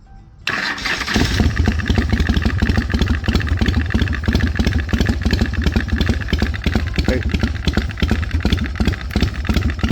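A 2003 Big Dog chopper motorcycle engine rumbles into a steady, loud idle after a brief quiet start, its deep uneven thump continuing throughout with no talking.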